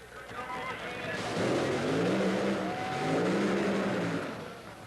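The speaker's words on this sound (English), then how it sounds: "The engines are running." Top Fuel dragster engines at the 1982 NHRA Cajun Nationals run with a wavering, rising and falling roar, heard at a moderate distance under an announcer's commentary.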